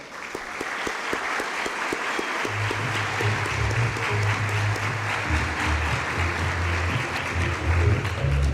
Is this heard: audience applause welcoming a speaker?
yes